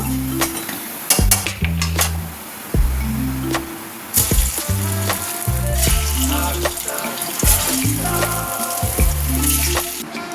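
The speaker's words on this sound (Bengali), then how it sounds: "এরকম সব কটা ভেজে নেব" Dhoka lentil cakes fry in hot oil with a continuous bubbling sizzle and occasional clinks of a utensil, heard up close under light background music.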